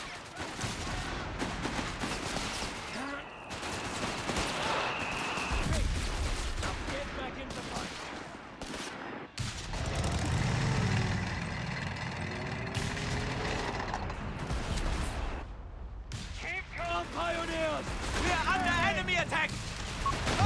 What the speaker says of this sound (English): Mortar getting a couple okay hits.